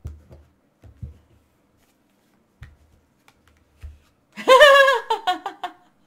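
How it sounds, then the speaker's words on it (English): Tarot cards being shuffled by hand produce a few soft, sparse riffling taps and flicks up close in a quiet room, followed by a burst of laughter. "Okay, you saw me shuffle."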